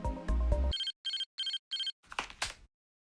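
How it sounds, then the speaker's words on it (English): A mobile phone snapping open in a video game, a short clack after a burst of music, followed by four evenly spaced electronic ring beeps and then a couple of brief clicks before silence. "I do love that noise of the phone snapping open."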